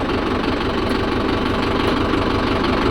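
Steady idle of a Mahindra Yuvo Tech+ 585 DI tractor diesel engine as it is shifted into reverse, a constant close rumble with slight knocking texture and no audible speech.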